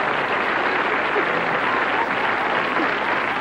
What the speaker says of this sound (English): that applause was started by a man who's been here 12 times